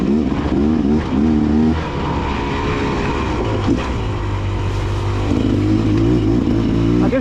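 A detuned Beta 300 two-stroke dirt bike engine pulls in second gear while being ridden, a loud, close motor with rising and falling revs and a buzzing, throaty tone, without talk.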